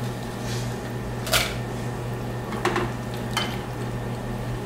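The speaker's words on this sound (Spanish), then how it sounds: "Hay que estarlos moviendo los chiles que no se nos quemen" Chiles de árbol fry in hot oil in a pan, a steady low sizzle broken by a few brief scraping stirs of a utensil against the pan.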